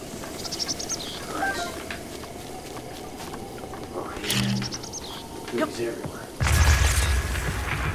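Bomb blast in The Legend of Zelda: Breath of the Wild around Hateno Village: a loud low boom bursts in near the end over steady game ambience with faint bird chirps, after a softer muffled thump mid-way.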